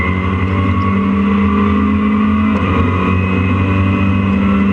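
Race cars led by a red BMW, with a diesel TDI and a Porsche in the field, pass at Donington Park, a steady loud engine drone with a brief surge as they go by.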